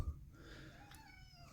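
A cat gives a short, fairly faint meow indoors in a quiet room, following a brief thump.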